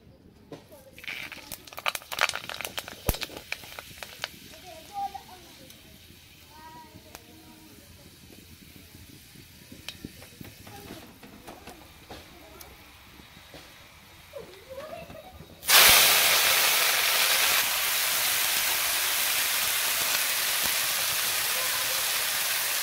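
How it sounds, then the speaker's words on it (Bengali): Panch phoron, the Bengali five-spice mix, drops into hot oil with bay leaf, and a loud, steady broadband sizzle erupts and holds after a quieter stretch of faint kitchen clatter. "এখন পাঁচফোড়ন দিব।"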